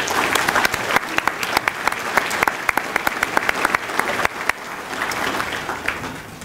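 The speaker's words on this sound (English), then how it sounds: "Let's have a round of applause for each of our writers and their hero." An audience at a heroes dinner honouring student writers and their heroes claps in sustained, fairly close applause with dense overlapping claps and a few sharper individual hits.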